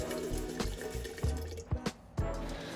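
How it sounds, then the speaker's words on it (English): Water is poured from a tap or jug into concentrated milk to dilute it for a baked macaroni and cheese, giving a close, uneven splashing and trickling with several short gurgling bursts and brief pauses. "Okay, this is concentrated, so we need to add some water."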